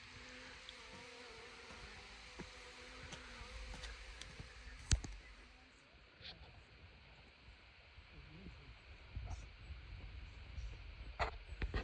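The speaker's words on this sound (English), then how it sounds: "And the bees are enjoying that." A faint, steady buzz of bees around flowers hums through quiet outdoor air in the Gawler Ranges, South Australia, with scattered clicks and a soft voice murmuring in the background.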